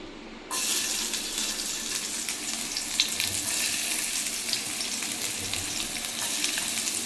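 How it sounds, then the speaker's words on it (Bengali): Onion and green chilli frying in hot oil in a pan, a steady loud sizzle that bursts in after a brief quiet start and hisses on without letting up. "অল্প একটু পেঁয়াজ আর লঙ্কা এর মধ্যে ভেজে নেবো"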